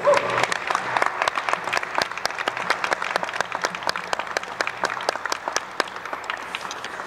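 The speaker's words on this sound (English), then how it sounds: "Let's give a big round of applause for our Final Four once more" An audience at a clean energy challenge finals applauds the Final Four teams on stage, a loud, sustained burst of many hands clapping throughout.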